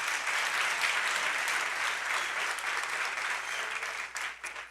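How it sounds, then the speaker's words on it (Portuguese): Church congregation applauding during a Portuguese-language worship service, a loud sustained burst of many hands clapping that carries evenly, then thins and breaks into a few scattered claps at the end. "Então dê um forte aplauso para o Senhor"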